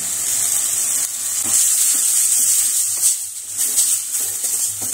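Water poured into a pan of spice paste for a tofu curry, with a loud, steady sizzle and hiss and soft stirring scrapes running throughout.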